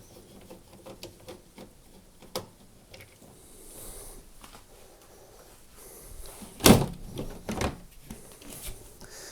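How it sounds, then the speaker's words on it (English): Top panel being removed from a Hotpoint washing machine after undoing its screws: soft scraping and light tapping build to a sharp, close clatter of the lid being lifted, then a few quieter knocks. "remove the top of the appliance by undoing the two screws that hold it in place"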